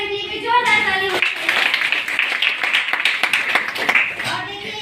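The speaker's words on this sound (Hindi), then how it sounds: "मेरी वर्षलता मैडम के लिए जोरदार ताली" An audience at a gathering breaks into loud, dense clapping that lasts several seconds, right after a voice speaks at the start.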